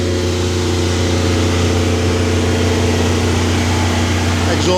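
A Shindauer 300 welding power source engine runs steadily at a constant loud drone with a strong low hum and no change in speed, close by and continuous.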